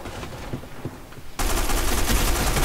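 Sustained rapid gunfire in the online shooter Black Squad bursts in loud and dense halfway through, after a quieter stretch of scattered distant shots and game ambience.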